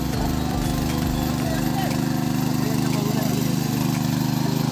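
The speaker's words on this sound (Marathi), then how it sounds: "आता नांगरतात त्या ट्रॅक्टर" A new tractor's engine runs while ploughing a field in rural Konkan, a loud, close, steady low chugging drone that holds evenly throughout, with voices mixed in.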